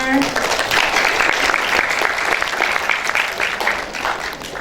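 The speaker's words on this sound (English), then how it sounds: "give applause for the winner" Applause for a door prize winner at a cultural negotiation event, with a brief voice at the start and then continuous mid-level clapping that holds steady before slowly thinning toward the end.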